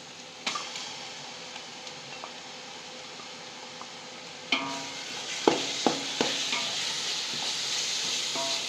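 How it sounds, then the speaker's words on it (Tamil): Ginger-garlic paste drops into hot oil for chicken biryani and fries with a soft steady sizzle, while a spoon scrapes and knocks against the pot in several sharp taps, close and clear. "இப்போ இஞ்சி பூண்டு தூக்கி போகிறேன்"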